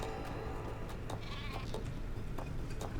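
Sheep in the fantasy online game RIFT bleat repeatedly over a constant ambient game background, several short overlapping calls at moderate distance and fairly quiet level.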